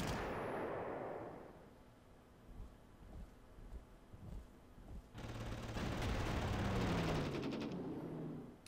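Artillery fire in the Panzer Corps wargame during a push on Paris: a series of muffled booms and rumbling blasts at moderate distance, with a louder burst of crackling impacts in the second half.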